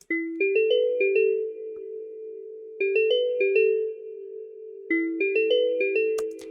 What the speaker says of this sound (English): The first instrument we've got is the dream bells.